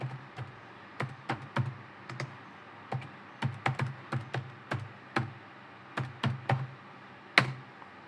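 Keystrokes on a computer keyboard as a command is typed during a Windows XP SMB exploitation session, with irregular bursts of close, crisp clicks spread across the stretch and no talking.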